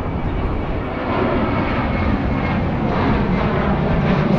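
Southwest airliner passing overhead near Tampa International Airport, a loud, steady broadband engine roar that swells slightly and holds throughout, heard from a bike ride along the Courtney Campbell Causeway with no talk.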